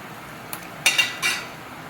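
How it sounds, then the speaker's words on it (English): A metal spatula scrapes smash burgers off a hot griddle in a few short, rough strokes, close and fairly quiet. "I have to do a little bit of scraping to get this off."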